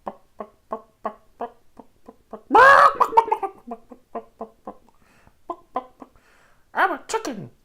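A person imitates a chicken, giving a quick run of short, rhythmic clucks broken by a couple of louder, squawking cries, close and fairly loud with no other sound.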